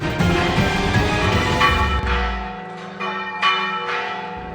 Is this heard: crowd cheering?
no